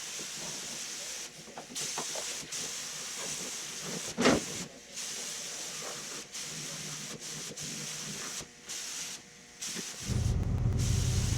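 A spray gun with a 2.0 tip lays down thinned Slick Sand high build primer on a Mustang body, giving a steady broad hiss that pauses briefly between passes, with a heavier rumbling roar near the end.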